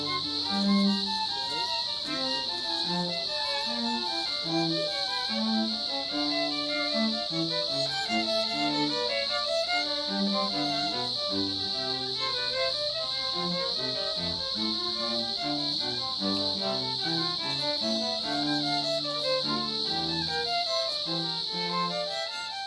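A dense, constant high-pitched buzzing drone of cicadas in a spring garden fills the air while a string trio plays a melody faintly underneath.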